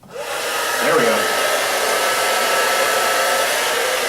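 A blow dryer switches on and runs steadily on hair, rising quickly to a loud, constant whooshing hum that holds without a break.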